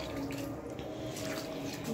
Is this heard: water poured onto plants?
yes